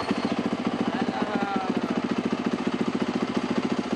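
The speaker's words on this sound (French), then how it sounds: "C'est Noé, 2 ans, qui démarre la moto de papa." A dad's motorcycle at a racing circuit runs near and loud after being started, settling into a steady, rapid pulsing idle throughout.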